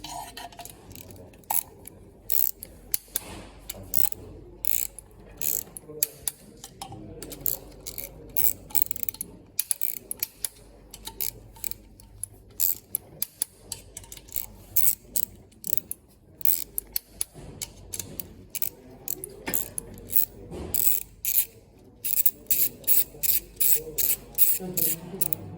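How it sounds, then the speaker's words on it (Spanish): Rapid clicking of a ratchet wrench tightening bolts on a PSA group gearbox, long runs of dense metallic ratchet clicks in bursts with pauses, close and fairly loud. "Ponemos todos los tornillos y lo apretamos a su par correspondiente"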